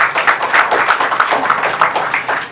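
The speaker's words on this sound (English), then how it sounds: "Big round of applause for them likewise." Audience applause at a legal education conference, a steady patter of many hands clapping at close range for the full length, with no voices over it.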